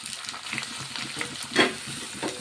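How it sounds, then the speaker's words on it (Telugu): Onion and green chilli frying in oil alongside curry leaves and mustard seeds, giving a steady close sizzle with brief crackles and one louder pop. "ఉల్లిపాయ పచ్చిమిర్చి ఆయిల్లో వేయించుకుందాం అండి"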